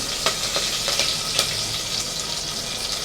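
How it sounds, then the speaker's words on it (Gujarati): Whole spices, cumin and curry leaves sizzle steadily in hot ghee, a dense continuous frying hiss with a few sharper pops near the start, close and fairly loud, no voices. "બધું ઘીમાં આપણું સતળાઈ ગયું છે"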